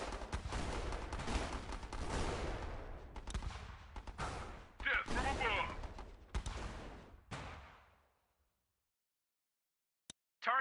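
A machine gun fires in the strategy game Battle Islands Commanders, a dense, continuous rattle of shots and explosions for about eight seconds, then near silence with one brief sharp hit.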